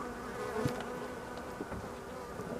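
A dense swarm of honeybees hums steadily around an open hive close by, a continuous buzzing drone with a few individual bees passing nearer.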